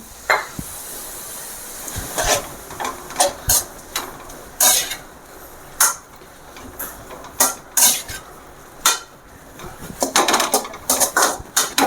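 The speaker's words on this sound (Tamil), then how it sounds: "அடுத்தது டொமேட்டோ சாஸு அடுத்தது சோயா சாஸ் இதெல்லாம் ஊற்றி நல்லா கலக்கணும்" Tomato sauce and soy sauce being mixed into masala chicken noodles in a pan, with a spatula giving close, irregular clinks and scrapes against the metal over a low background hiss; no one talks.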